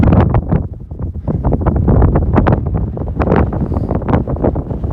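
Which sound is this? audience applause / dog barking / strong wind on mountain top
strong wind on mountain top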